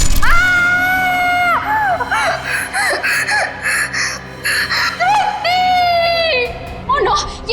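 A woman screams and cries out in distress in a TV crime drama, the shrill wails rising and breaking repeatedly between gasping sobs, close and loud.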